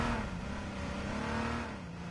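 A car engine revs in the H1Z1 video game, a steady loud drone with a sustained engine tone that holds and then dips slightly toward the end, with no talking.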